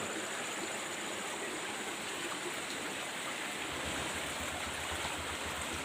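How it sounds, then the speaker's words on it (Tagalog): Water rushing steadily along a farm irrigation channel in the rural Philippine countryside, a continuous close broadband gush with no breaks and no voices. "Ito naman irrigation guys. Yung patubig sa bukid."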